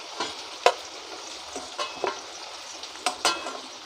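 Potato pieces frying in hot oil for khichdi, a soft steady sizzle broken by several sharp spatters and the scrape of a spatula stirring in the pan.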